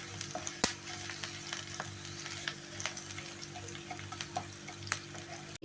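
Green chillies and garlic fry in a little oil, a soft steady sizzle with scattered crackles and faint stirring, quiet and without talk.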